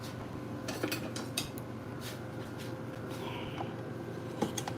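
A spatula scrapes flour down the inside of a mixing bowl after the mill is switched off, a soft steady rasp broken by a few light clinks and taps, close by, with no talking.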